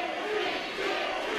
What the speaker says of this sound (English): Crowd's firmly behind Jimmy